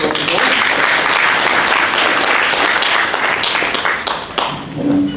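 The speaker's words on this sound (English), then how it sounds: "let's give him a round of applause" A large crowd at a security summit applauds steadily for about five seconds, a dense wash of clapping that thins slightly near the end.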